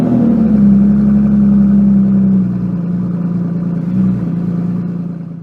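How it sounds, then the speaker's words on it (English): A loud, throaty Aston Martin Vanquish engine with its exhaust baffles wired open rumbles steadily close by, idling with a deep low tone and a slight swell in revs near the end, no talking. "we had them wire open the exhaust baffles, so it was on loud mode all the time"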